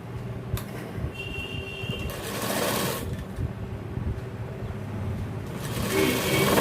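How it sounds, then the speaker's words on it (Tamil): A sewing machine stitches the waistband belt onto gents' trousers, a fast close whirring rattle in short runs with pauses between bursts. "பெல்ட்டோட ஒரு புள்ளி மேலே ஏற்றி தைங்க."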